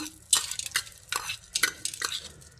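Hot fried tempering stirred into jackfruit kozhukatta, giving close, soft scraping and mixing strokes in short bursts with faint sizzle.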